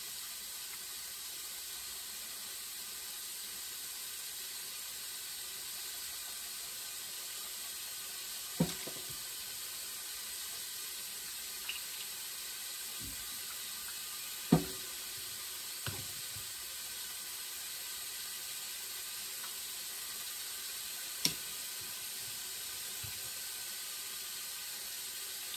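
Onion, garlic and ginger frying in a pan for a clam dish, a steady broadband sizzle running throughout with a few sharp clicks and taps scattered across it, no talk.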